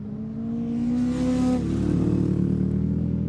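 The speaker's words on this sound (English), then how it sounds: "Brilliant traction from the little Crosley" A little Crosley race car accelerating hard on a circuit at a historic motor racing festival, its engine note loud and close, rising steadily in pitch with no voices over it.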